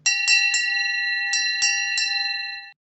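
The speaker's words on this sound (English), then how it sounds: "that bell means there's someone at our drawbridge" A drawbridge doorbell in a stage pantomime rings six times in two quick bursts of three, each strike clear and metallic, with tones lingering and ringing on between strikes before stopping abruptly.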